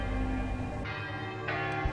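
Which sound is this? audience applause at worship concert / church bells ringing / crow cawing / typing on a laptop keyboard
church bells ringing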